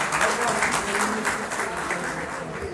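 A large crowd at a convention session breaks into loud, sustained applause to welcome a speaker to the stage, with dense clapping throughout.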